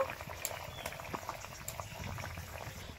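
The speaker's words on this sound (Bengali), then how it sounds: "জল ফুটে গেছে, এখন মাছগুলো দিয়ে দেব।" Water boiling in a pot for fish curry bubbles softly and steadily at close range, with faint popping throughout.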